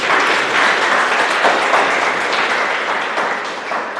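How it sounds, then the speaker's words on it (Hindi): Sustained audience applause at a Hindi/Urdu motivational talk on confidence and self-esteem, a dense, steady wash of many hands clapping close and loud for about four seconds, tapering slightly at the end, with no talking over it. "तालियां तो इस बात पे बजाओ।"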